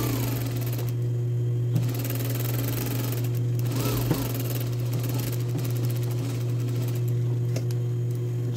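A sewing machine stitches a blouse seam, its motor humming steadily and close throughout, with a low constant drone and faint mechanical ticking, no voices.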